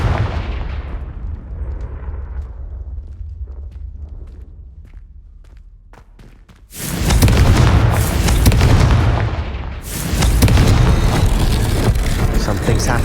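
A Confringo spell explosion in the video game Hogwarts Legacy: a low rumbling decay gives way to a sudden loud blast, followed moments later by a second heavy burst, close and booming.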